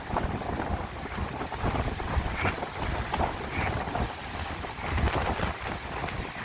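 Strong gusty wind roars and buffets the microphone along the North Sea shore at Saltrød-Hove, a constant loud rushing mixed with the wash of rough surf, with no voices.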